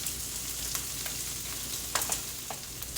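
Sausage crackling in a pan over low heat as flour is stirred through, a soft steady sizzle with occasional scrapes and clicks of the spoon against the pan, no talking.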